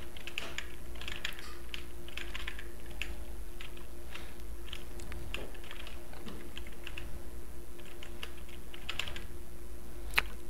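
Rapid computer keyboard typing during a game: a steady stream of fairly faint, light clicks over a constant background hum, with no one talking.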